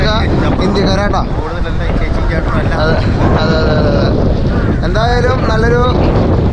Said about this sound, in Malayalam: എന്തായാലും നല്ലൊരു നല്ല തണുത്ത കാറ്റുണ്ട്